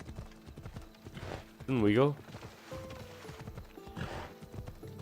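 Horse hooves clip-clop during a ride in a video game, with a loud neigh or whinny bursting out midway while someone talks over the trotting.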